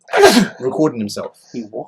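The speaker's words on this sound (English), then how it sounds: "Can I sneeze first" A man's sneeze bursts out in a podcast studio, close and loud, set among brief stretches of conversational talk.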